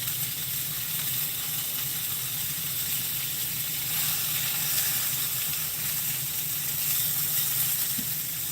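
Chicken sausages frying in a pan give a steady, close sizzle and hiss that holds evenly throughout with no break.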